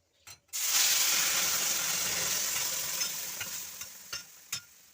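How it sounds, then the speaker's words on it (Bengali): Soaked lentils dropped into hot spiced oil burst into a loud, close sizzle that slowly eases off, with a few sharp stirring clicks and scrapes toward the end. "ডালটা ফোড়নে দিয়ে দেবো"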